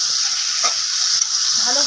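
Fried potatoes are stirred into spices in a pan for a snakehead fish curry, giving a steady hissing sizzle with soft scraping of the spoon, close and continuous with no talking.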